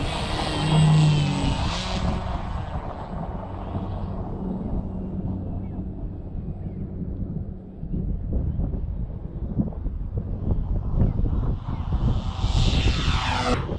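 An electric RC airplane motor runs steadily through a pre-flight check, a continuous buzzing drone at close range with some gusty wind noise, swelling slightly near the end.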